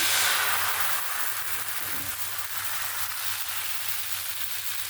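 Rice-flour batter for chakli pithe sizzles on an oiled pan, a steady close hiss that holds evenly throughout with no talking.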